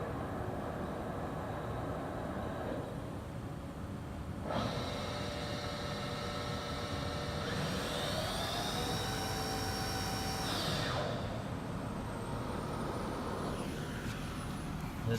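A 2010 Haas VF-2 CNC vertical mill runs its spindle with a steady hum, rising to a brighter whine that climbs and holds before dropping back, fairly faint and continuous.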